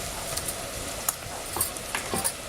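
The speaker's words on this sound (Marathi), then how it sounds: "गोडा मसाला परतून घेते" Goda masala fries in a pan over a village-style fire in the Konkan, with a steady faint sizzle and occasional clinks of a spoon stirring the spices.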